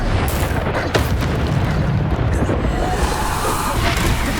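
Bombarda explosion spell cast in the video game Hogwarts Legacy, a dense, loud boom with rumbling blasts and bursts that fill the whole stretch without letup.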